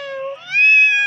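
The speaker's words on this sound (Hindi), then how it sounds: "और दीदी ने देखो आ गई एक बिल्ली के बच्चे को पकड़ लिया।" A small kitten gives a single close, clear meow that rises and holds steady before breaking off, with no other sounds around it.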